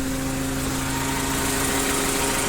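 A Japanese two-ton forklift engine idles steadily and evenly, a close, continuous mid-pitched hum with a faint knocking texture and no pauses, heard alone without talk.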